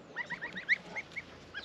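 Young Buff goslings give a run of high, close, soft peeping calls at an uneven rhythm, one slightly louder chirp standing out in the middle.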